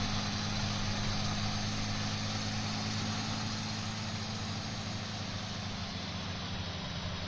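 A tractor engine in Farming Simulator 19 on a Hungarian field, revving hard and steady with a dense, continuous drone and no talk.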